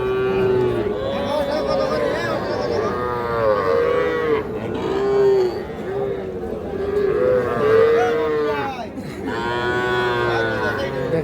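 Several calves at a cattle market moo in close, repeated long bellows, one after another, over busy background chatter and people talking.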